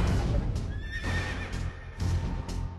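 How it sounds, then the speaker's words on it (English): A horse whinnies loudly and close, with hooves clip-clopping in rhythmic bursts around the neighing, no talk over it. "And I looked, and beheld a pale horse"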